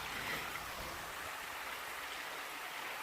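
Abuab Falls pours in a steady, broad, rushing wash of water, heard continuously at a moderate distance with no voices.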